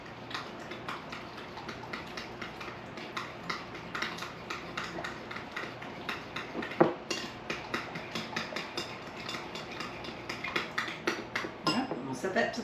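A spoon whisks sugar into salad dressing in a bowl, producing a quick run of light clinking and tapping strokes that grows busier toward the end, close up, with occasional speech in the background.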